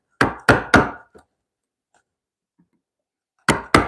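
A mallet drives a chisel into a large timber to cut a mortise joint for a timber frame. Three heavy, close wooden knocks come in quick succession, then a faint tap and a long silence, then two more strikes.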